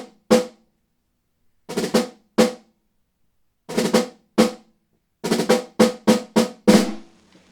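A Sonor Performer 14 x 6.5 snare drum is struck close up with the snares on, giving sharp, loud cracks in irregular groups of single hits and quick flurries, separated by short silences.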